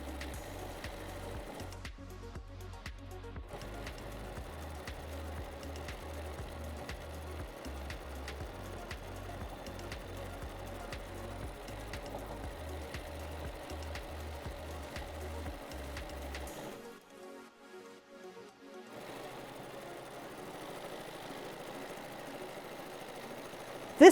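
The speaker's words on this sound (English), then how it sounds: "This time, I'll stitch the next row continuously." A sewing machine runs steadily through free-motion quilting of a wavy chevron design, a rapid, even mechanical chatter with brief pauses and shifts in stitching speed, close and alone.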